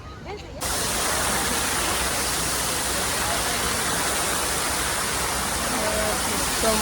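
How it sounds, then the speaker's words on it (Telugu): A steady, broad roar of falling water from a waterfall at a park in Hyderabad fills the scene continuously at moderate level after a brief quieter start. "water falls"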